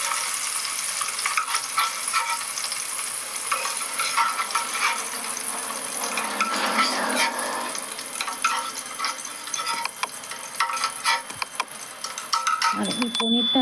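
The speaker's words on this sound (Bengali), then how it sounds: "খুব বেশি কালার আমি হালকা ফ্রাই করে ভেজে নিচ্ছি।" Food frying lightly in a pan with a steady moderate sizzle and crackle, scattered stirring clinks throughout, and a brief scrape at the end.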